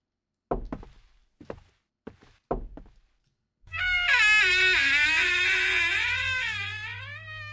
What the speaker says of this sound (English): Wait, what is that knocking sound?